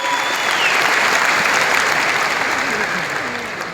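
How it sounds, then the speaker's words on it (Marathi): Loud, sustained applause from a large crowd packed into a stadium for a farmers' competition awards ceremony, steady clapping throughout that eases slightly toward the end. "एकदा जोरदार टाळ्या पाणी साठी झाल्या पाहिजेत"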